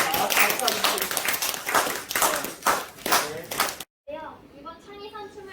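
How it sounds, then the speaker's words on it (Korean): Students at a school science presentation event clap together in a lively burst of applause, close and fairly loud for several seconds, then it cuts off and a young voice begins speaking. "여러분 박수 한번 쳐주세요. 박수!"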